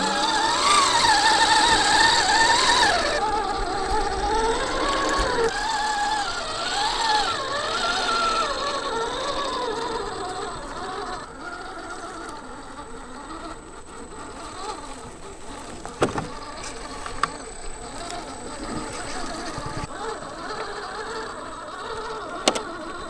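A Redcat Scout II Gen 8 RC car on its first run gives a steady whirring motor drone with gearing, loudest at first and then a little softer, with a few sharp clicks near the end.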